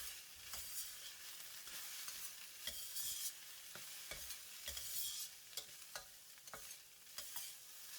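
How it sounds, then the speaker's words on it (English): Egg fried rice with chopped spring onions gets a light stir in a wok, with a constant bright sizzle broken by repeated scraping strokes of the spatula, close and fairly faint overall. "add 2 tablespoons of chopped spring onions and give another light stir"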